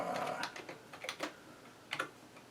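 Computer keyboard keys tapped while entering names into a spreadsheet, a few quiet scattered clicks in short bursts with pauses between.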